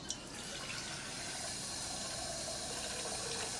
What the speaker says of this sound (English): So basically I'm just gonna fill this with water.